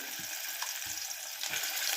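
Constant bright sizzling of ground spice paste frying in hot oil, with a few soft low thumps of stirring at regular intervals.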